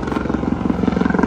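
A helicopter flying overhead, its steady rotor thumping close and loud, with no talk over it.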